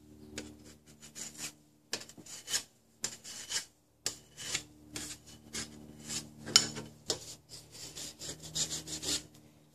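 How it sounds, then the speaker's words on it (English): A hand metal file rasping around the outer edge of a metal piece to round off the corner and remove burrs, heard as repeated close, gritty strokes in an uneven rhythm with short pauses between them. "What I'm going to use now is a file."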